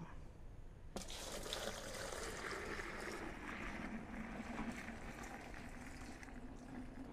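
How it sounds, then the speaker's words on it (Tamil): Water is poured from one bucket into another on a terrace garden, a steady close splashing and trickling that starts abruptly after a moment and continues evenly throughout. "இன்னொரு பக்கெட்டில் இருக்கக்கூடிய தண்ணியை எடுத்து இதில் ஊற்றுறேன்."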